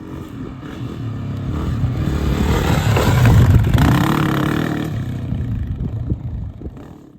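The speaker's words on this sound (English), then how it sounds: "We're gonna take it out on the trail and let you know how it performs out there." Honda CRF 250F trail motorcycle ridden on a trail, its single-cylinder engine roaring steadily and swelling as it revs, loud and close throughout with no talk.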